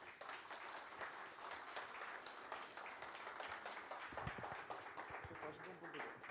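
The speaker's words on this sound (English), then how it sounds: "Let's give a round of applause to Mr. Sebastian Burduja." A conference audience bursts into a round of applause, dense steady clapping from many hands filling the room, with a few louder nearby claps toward the end.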